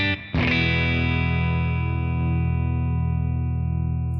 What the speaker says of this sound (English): So this is the Blackface Twin vibrato channel input, edge pedal DI first without the Timmy.